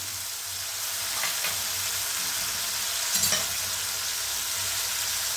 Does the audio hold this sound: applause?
no